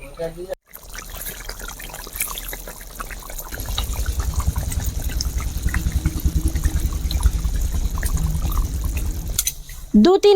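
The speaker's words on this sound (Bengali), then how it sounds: "তেজ আঁচ করে আমি মাছটাকে ফুটিয়ে নেব দু তিন মিনিট মতো" A thin village-style snakehead (shol) fish curry bubbles on high heat, a dense, steady close burble of boiling liquid that builds after a quieter start.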